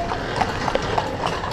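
Horse hooves clip-clop at a steady walking rhythm as a horse pulls a carriage along a street in Cienfuegos, Cuba, the hoofbeats fairly close and evenly spaced over a constant background of street noise.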